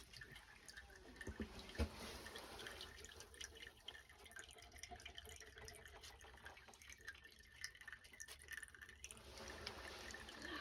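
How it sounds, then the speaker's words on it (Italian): Water trickling at the Su Tempiesu sacred spring, an ancient stone well temple near Orune in Sardinia; a soft, continuous dribbling flow, faint and close, with a brief louder splash early on. "il rumore dell'acqua"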